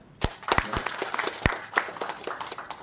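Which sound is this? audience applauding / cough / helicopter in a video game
audience applauding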